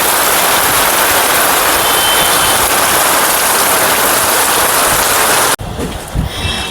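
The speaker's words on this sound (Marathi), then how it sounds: "काय मुसळधार पाऊस चालू झालाय परत." A heavy monsoon downpour roars loud and constant at a market, a thick wash of rain noise that cuts off abruptly near the end, leaving a quieter patter.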